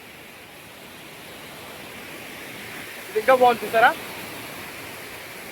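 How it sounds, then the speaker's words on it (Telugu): A steady, broadband rush of water pours at Kothapalli waterfalls, filling the whole clip at an even level, with a brief spoken remark rising over it near the end. "వాటర్ ఫాల్స్ ఎలా ఉంది ఇప్పుడు దాకా?"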